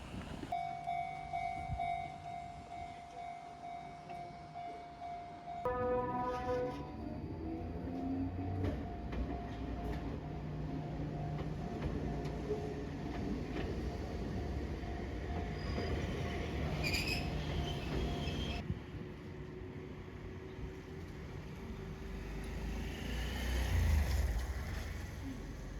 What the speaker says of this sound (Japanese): ちょうど電車来るみたいですね。